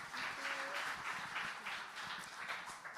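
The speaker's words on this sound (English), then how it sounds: "Please welcome them once again with a big round of applause." Faint, steady audience applause for women diplomats at the SheShakti 2025 event in Mumbai, a continuous wash of clapping with distant voices beneath.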